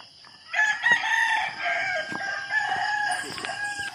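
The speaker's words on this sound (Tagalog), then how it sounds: "Tugaok ng manok" A rooster crows loudly and close by in a long, drawn-out call, with a second crow following soon after. Nobody speaks.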